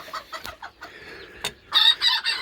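A rooster crows loudly nearby among scattered hen clucks and squawks, the crow rising at the end of the clip.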